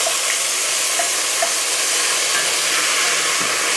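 Browned beef and onions cooking for an Indonesian beef stew with potatoes, a loud, dense, constant sizzle with faint stirring under it, no voices.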